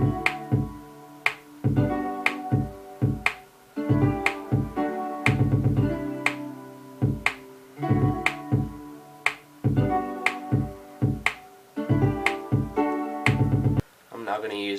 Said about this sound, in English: here's what it sounds like so far with the chords, kick and the clap